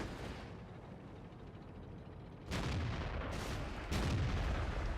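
A tank cannon fires in World of Tanks, a sharp booming blast near 2.5 seconds followed by two more loud bursts of gunfire, over a constant low rumble of engine and battle noise.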